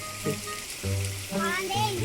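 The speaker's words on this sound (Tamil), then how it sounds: "நல்ல மழை" Heavy rain hisses steadily around a seaside fishing spot at Kovalam, with an adult and someone talking over it.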